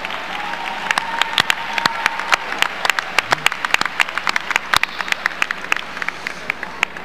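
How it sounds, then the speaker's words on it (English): Audience at a FAMU graduation ceremony applauds the faculty, a steady wash of clapping with sharp individual claps standing out over about seven seconds, with a faint voice briefly underneath. "Please join me in a round of applause for our faculty."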